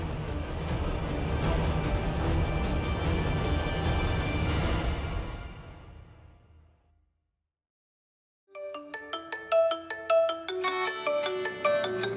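Loud music fades into a moment of silence, then a mobile phone ringtone rings out, a bright melodic tune repeating in short bursts.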